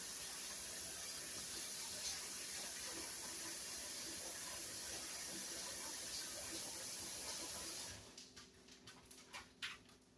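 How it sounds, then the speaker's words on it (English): A steady broadband rush of water pouring into a pot, continuous for several seconds, then breaking into a few splashy trickles as the pour stops. "And then I'm just going to add about the same amount of water"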